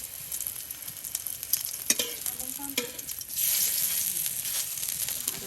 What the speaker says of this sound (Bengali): এখন আমি তেলের ভিতরে দিলাম